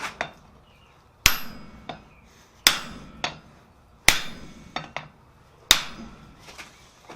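A hammer strikes a chain link on a chain maker's stake anvil in five sharp, ringing metallic blows about every 1.4 seconds, each followed by a lighter rebound tap and a short decaying ring.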